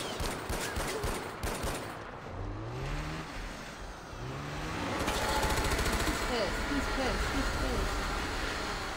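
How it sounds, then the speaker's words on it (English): Bursts of gunfire aimed at a yeti in the video game Far Cry, rapid shots crackling at the start and again later under a continuous rumbling engine-like drone, with someone talking over parts of it. "let me get some more shots on him"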